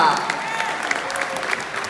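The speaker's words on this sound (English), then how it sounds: "let's give a round of applause to our main cast!" Applause from an audience at a film premiere night, greeting the main cast; steady moderate clapping throughout with crowd presence and some background voices.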